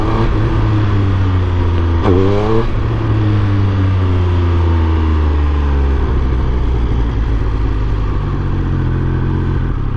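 A car drives along with a loud, steady low engine drone heard from inside, the pitch rising and falling briefly near the two-second mark before settling back into a constant hum.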